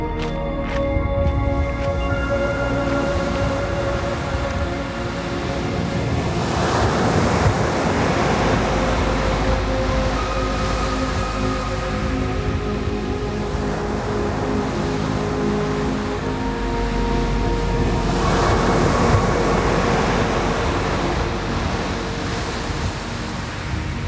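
Surf rolling onto the black sand beach at Vik on Iceland's south coast, a steady roar of breaking waves with two fuller swells and some wind, heard alone.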